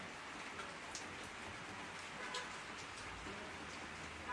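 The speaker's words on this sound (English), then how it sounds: "I like to think of the rain as his little gift from beyond" Steady rain falls throughout, a soft continuous hiss with scattered drops pattering nearby, quiet and even with no voices.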